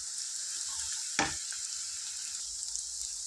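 Ginger garlic paste frying in a pan of onions and oil, a steady close sizzle with one brief stir scrape, no voices.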